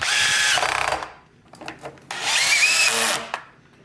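A power drill set to low torque whirs in two bursts driving screws into a KitchenAid stand mixer, revving up and winding down, with brief mechanical clicks and rattles between them; nobody speaks.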